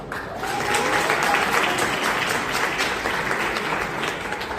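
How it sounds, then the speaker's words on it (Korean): Wedding guests applauding together, a dense burst of clapping that swells in the first second, holds steady and tapers slightly toward the end. "박수 부탁드립니다."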